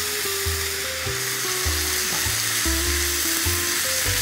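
Onions, vegetables and meat stir-fry on high heat for a Philly cheesesteak, a loud, constant sizzle with repeated scraping strokes of the stirring spatula.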